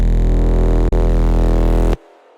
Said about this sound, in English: the opening bass is actually 3 layers, so it sounds like this.